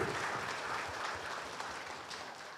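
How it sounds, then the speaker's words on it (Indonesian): Audience at a health talk show in Banyuwangi gives a round of applause, an even burst of clapping filling the room for a few seconds without speech over it. "boleh kita berikan tepuk tangan?"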